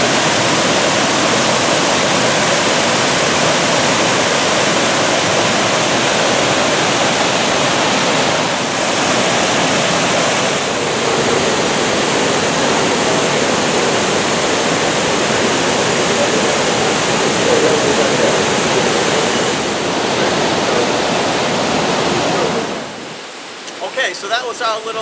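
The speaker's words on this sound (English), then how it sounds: "This one is a little more sophisticated. It's a cascading waterfall." A cascading waterfall in Greenacre Park, a small pocket park in Midtown East, Manhattan, roars as a loud, dense, continuous rush of falling water for over twenty seconds before cutting off abruptly near the end.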